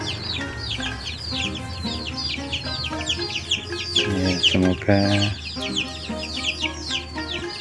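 Chickens in a semi-free-range backyard coop cluck and chatter continuously, several birds calling at once nearby, with occasional louder squawks and a brief spoken word near the start.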